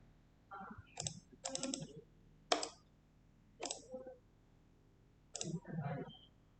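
Mouse clicks on a web form's submit button come in several short sharp bursts spaced across a few seconds, close and fairly quiet, with someone talking in between.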